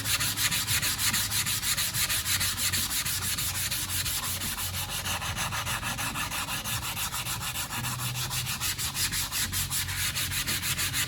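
Steady back-and-forth hand sanding on a wooden model aircraft wing, a St. Croix Models Burt Rutan Long EZ, close and continuous with a rhythmic scratchy rasp, no voices.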